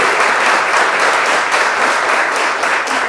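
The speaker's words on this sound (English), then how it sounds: "I'd appreciate it if you could give a round of applause for Lukas," Sustained clapping from a crowd at a Star Wars: Destiny weekend panel, dense and loud, continuing evenly for a few seconds with no voices above it.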